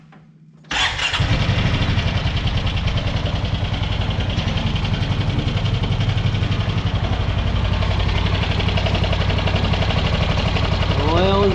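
A turbocharged Honda Pioneer 500 side-by-side engine cranks and fires after a brief quiet hum, then settles into a loud, steady, rumbling idle that runs on alone.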